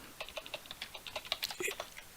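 Fast, uneven clicking of keys on a new computer keyboard, close and fairly quiet, with irregular bursts of keystrokes and no talking.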